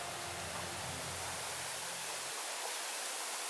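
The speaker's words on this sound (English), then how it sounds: "There it is, Ortega Falls." Ortega Falls, a graffitied waterfall on the trail to San Mateo Peak in Riverside County, gives a steady broadband rush of falling water, near and continuous, with a low rumble that drops away after a couple of seconds.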